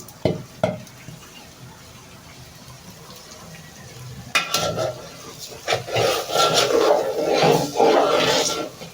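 Soaked polao rice is stirred in a pot with a spoon, a few sharp scrapes at first, then a busier run of scraping, clinking and light sizzling, close by and without talk.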